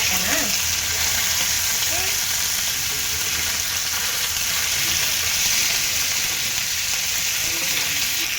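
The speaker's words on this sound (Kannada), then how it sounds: "ಬಾಳೆಲೆ ಸ್ವಲ್ಪ ಬಾಡಿಸ್ಕೊಳ್ಳೋಣ, ಆವಾಗ ಕಟ್ಟಕ್ಕೆ ಚೆನ್ನಾಗಿರುತ್ತೆ" A banana leaf wilts in a hot pan before wrapping fish, giving a continuous loud frying hiss with faint crackle, steady and close for the whole stretch.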